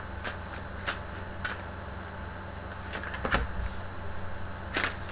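Tarot cards being shuffled nearby, with brief crisp riffles and card snaps spread over a low steady background hum and no talking.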